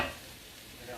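Butter sizzles in a hot pan with translucent onions, a steady close crackling hiss that runs the full second with no talk over it.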